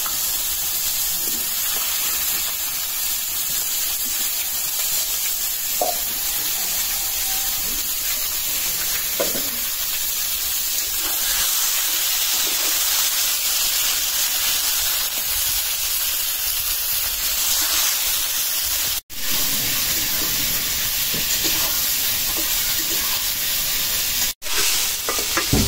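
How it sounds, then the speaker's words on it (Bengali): Eggplant frying in hot oil that has just been used for fish, a loud, steady sizzle and hiss lasting the whole time with small pops and stirring noises, and no one talking. "এই তেলে আমি বেগুন দিয়ে দিলাম।"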